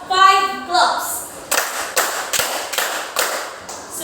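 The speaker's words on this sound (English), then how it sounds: "Please give yourselves 5 claps." A classroom of students claps in unison: a few sharp, evenly spaced claps ring out alone after a brief burst of speech at the start.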